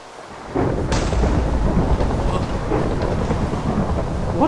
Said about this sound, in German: Ist hier ein Blitz eingeschlagen?